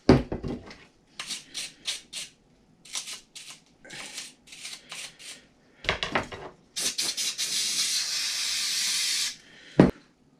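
Brake cleaner is sprayed onto RC truck bearings. A series of short, sharp hissing bursts comes first, then a long, steady, loud spray lasting a few seconds, with clicks and handling noises between them.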